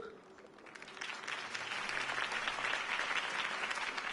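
A crowd in a video game breaks into sustained applause, steady clapping that swells and holds, with a voice faintly audible underneath.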